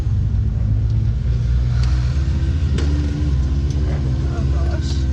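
An off-road vehicle grinds along in four-wheel drive on a night trail ride, its engine a loud, steady low rumble with a rising whine, while passengers talk over it.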